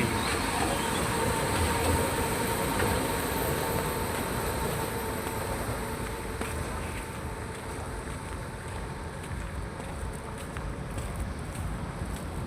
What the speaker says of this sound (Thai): รถไฟสายสีชมพู